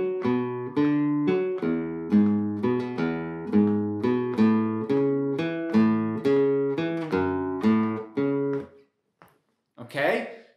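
Spanish guitar picks out the melodic intro of a song in a steady run of plucked notes and chords, played alone up close, ending with a short burst of noise.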